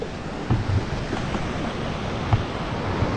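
Strong sea waves break on a rocky shore at low tide, a steady broadband wash of surf with a few louder surges and some wind noise, no voices.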